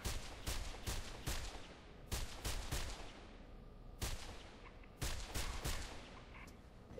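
Sharp gunshots from the first-person parkour game Mirror's Edge, a few spaced single cracks and short bursts, loud and close against a steady background bed, with no talking.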